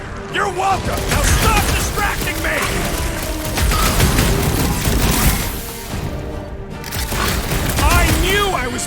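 Gunfire at junk slugs in Guardians of the Galaxy, loud repeated shots and impacts in clustered bursts mixed with crashes and game effects, while voices talk over the action.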